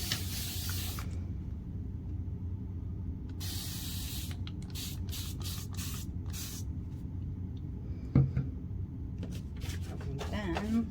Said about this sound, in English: And then we shall give it a little spray with water.